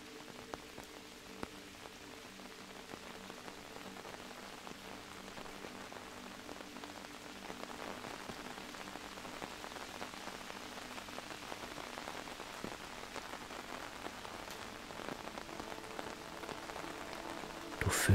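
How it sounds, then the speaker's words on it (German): A steady rain patters on an umbrella, a soft and continuous drumming of drops that grows slightly fuller over time and runs on without talk until a louder touch at the very end. "Der Regen verstärkt sich allmählich zu einem stetigen Prasseln auf deinem Schirm."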